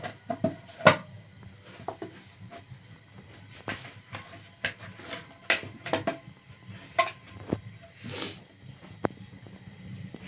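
A tiffin box lid is fitted on in a home kitchen while packing a cabbage and egg dish, giving a series of faint, scattered clinks and clacks in a quiet room.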